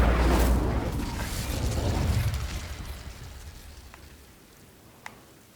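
Fire spell from Hogwarts Legacy: a loud whooshing burst of flame that roars, swells briefly, then fades into a crackling tail, ending with a faint sharp pop, no speech.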